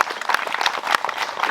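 An audience at a ceremony claps in brisk, dense applause, steady and fairly close across a short burst.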